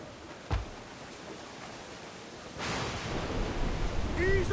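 Rough sea waves in Assassin's Creed Black Flag rush and hiss as a broad, steady wash, with a sharp splash early on and a swelling surge in the latter half, under faint game sounds.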